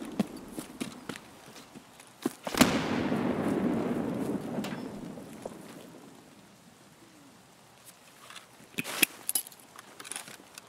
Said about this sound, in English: That was a really good nade.